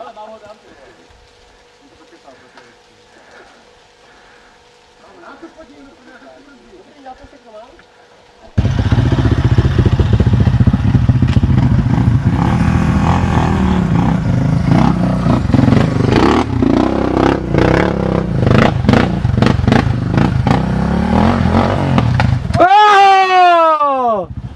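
A motorcycle engine revs loudly and close on an autumn ride in Romania, a rough, sustained roar with rattling clatter and uneven surges, and voices talk over it at times.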